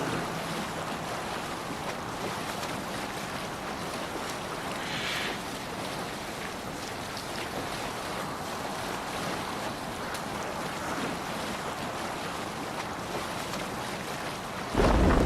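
A sailing ship on open sea in Assassin's Creed Valhalla rides through a steady, dense rush of wind and waves that continues without a break, with a louder swell at the very end.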